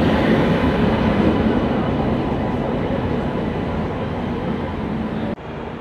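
A Rajdhani Express hauled by a locomotive runs steadily on the line from Malda, a loud continuous rumble of wheels and carriages heard from on board, with no pause until a brief dip near the end.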